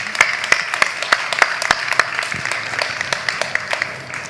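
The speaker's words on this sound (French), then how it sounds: "On vous applaudit." Sparse, sharp claps ring out from a festival cooking masterclass audience after a chef unveils a plated dish, a handful of individual hand claps spread unevenly over a few seconds rather than full applause.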